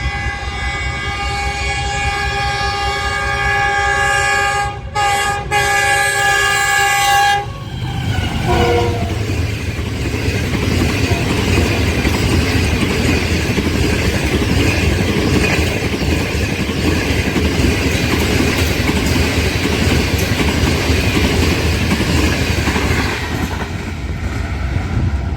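A Green Line Express train sounds a long, loud horn blast at Okara railway station, then passes close by with a steady rumble and rhythmic clickety-clack of wheels over rail joints that continues to the end.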